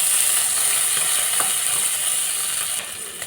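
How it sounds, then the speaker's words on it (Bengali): Chopped onion and green chillies fry in a pan, giving a loud, steady, close hiss of sizzling oil that runs unbroken and eases slightly near the end. "এটাও একটু ভেজে নেব।"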